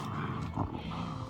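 Dogs fight over a stick outdoors at a rocky high-desert site in Oregon, giving a short, loud, rough growling snarl up close with no talking over it.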